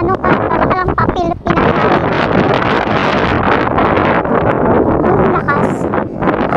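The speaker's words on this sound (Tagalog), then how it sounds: "Sobrang lakas ng hangin." Strong wind gusts roar across a microphone in an outdoor park, a loud, continuous buffeting rush with occasional rustling, while a voice talks intermittently over it.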